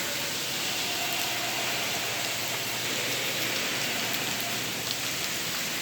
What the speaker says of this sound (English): Little shower in Arizona